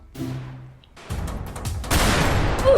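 Gunfire in the Roblox game, in a soldier-job mode, sounds as a faint shot at first, then rapid bursts of automatic fire that grow denser and louder, with no speech.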